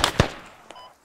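Grenade blasts in a first-person military shooter game: two sharp, close explosions in quick succession, then a fainter distant pop and a fading rumble.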